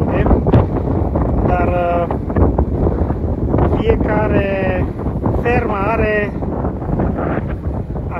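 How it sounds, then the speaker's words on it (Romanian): Wind gusts buffet the microphone at a cow farm in Kansas, a steady low rumble running throughout while someone talks over it in Romanian. "bate vântul de acum"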